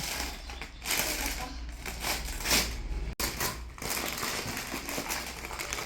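A birthday gift package is torn open, with crinkly ripping and crumpling of wrapping in short bursts, close and fairly quiet, with no voices.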